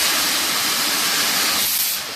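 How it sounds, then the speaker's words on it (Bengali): Nitrogen gas hisses loudly and continuously out of an AC outdoor unit's lines during flushing, a broad, steady rush that eases slightly at the very end. "এটা নাইট্রোজেন খোলার সময় খুবই সাবধান, এটা খুব আস্তে ধীরে খুলতে হবে"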